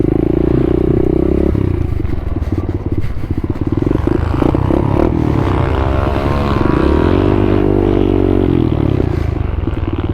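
Pit bike engine held in a low gear, loud and close, its steady harmonic drone rising and falling as the throttle opens and eases off, with clattering and scraping mixed in throughout.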